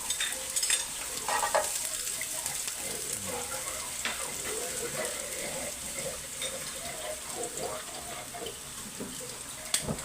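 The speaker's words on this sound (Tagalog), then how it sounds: "magigisa tayo ng bawang" Garlic fries in hot oil in a pan with a bright continuous sizzle and crackle, steady and close, broken by a few scraping stirs, no one speaking.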